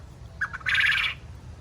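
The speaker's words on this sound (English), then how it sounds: "Those are jumbo Caturnix quail." Jumbo Coturnix quail in a permaculture garden give a brief call, a short chirp followed by a buzzy, rapid trill lasting about half a second, fairly close over a quiet outdoor background.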